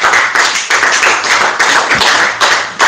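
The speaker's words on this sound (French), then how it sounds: "On acclame la parole de Dieu." A church congregation applauds in a loud, steady burst of clapping with rhythmic pulses, close and continuous, with no voices rising above it.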